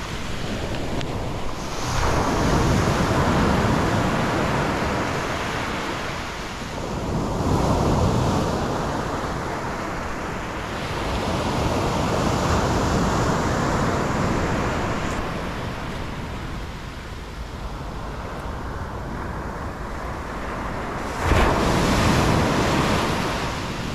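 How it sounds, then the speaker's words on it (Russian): Sea waves roll in and break on the shore at Alanya, in steady surges roughly every five seconds, close and loud, with wind buffeting the microphone throughout. "вы скажете привет морю"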